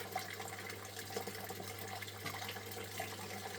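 Water rinsing a gold pan over a sluice on a test mat, a steady faint splashing and trickling flow with a low hum underneath and no talk.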